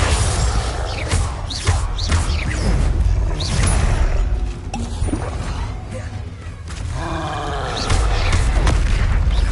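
The Confringo fire spell blasts during Hogwarts Legacy gameplay, with loud booming impacts, whooshes and crashing debris layered over a dense game soundscape that rises and dips.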